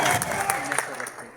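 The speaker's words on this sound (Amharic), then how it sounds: "ጋይስ እስኪ ጭብጨባ ለሁላችንም።" Applause from the guests at the Adonai Academy graduation ceremony, a steady wash of hand claps lasting the whole moment and fairly close, with voices mixed in.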